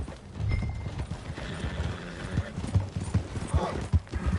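Horse hooves clip-clopping in Red Dead Redemption 2, a steady near rhythm of hoofbeats with an occasional whinny, under a dense low rumble of in-game ambience.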